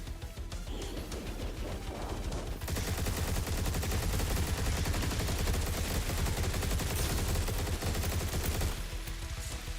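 Twin Incendiary gun in the shooter game Turbo Overkill fires in a dense, sustained barrage of rapid blasts lasting several seconds, loud and continuous with a brief lull near the start and end.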